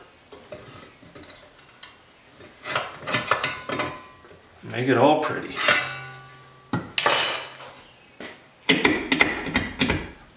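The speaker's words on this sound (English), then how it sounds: "And then we can just tune everything up" A hammer taps on the lower front quarter panel of a 1939 Chevy two-door during repair, giving bursts of close metallic clinks and rings between pauses, with a brief spoken remark over them.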